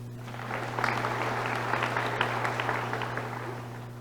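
Audience applause for nursing faculty and college administration at a nursing pinning ceremony at Allegany College of Maryland, a steady sustained round of many hands clapping over a constant low electrical hum.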